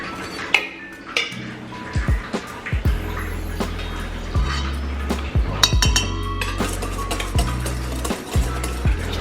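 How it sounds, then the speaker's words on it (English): Dry scone ingredients of flour, sugar, baking powder, salt and baking soda are stirred together in a bowl, a utensil clinking and scraping against the dish in uneven strokes with occasional sharper knocks, close and without talk. "first we mix the flour, the sugar, baking powder,"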